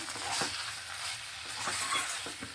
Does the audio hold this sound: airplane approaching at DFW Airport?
no